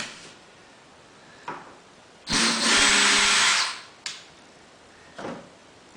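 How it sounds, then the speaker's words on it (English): A power drill drives a regular wood screw into metal, with one loud, steady whirring burst of about a second and a half, followed by a few short clunks and handling sounds. "I'm just going to screw it in using a regular wood screw"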